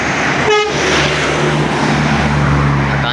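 Simpati Star bus bound for Pekanbaru and Medan passing close by on a road in West Sumatra, with a short horn toot early on over loud, steady engine and traffic roar.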